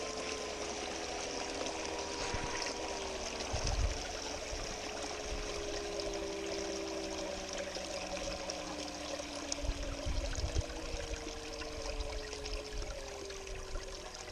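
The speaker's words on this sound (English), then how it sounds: "Let it run a little bit, and let's slowly turn this water off now." Water runs steadily over a sluice mat, a continuous broadband rushing and trickling flow that holds at an even level throughout, with a few low thumps near the start and middle and no speech.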